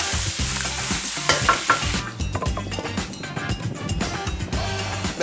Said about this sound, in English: Once the shell hits that hot oil, it's going to give out all that natural essence of prawn